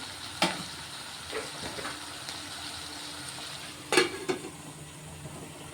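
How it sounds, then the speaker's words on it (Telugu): Ivy gourd curry sizzles in a pan: a quiet, steady frying hiss broken by a few sharp crackles and the soft scrape of stirring. "దొండకాయ అయితే చక్కగా ఫ్రై అవుతుంది"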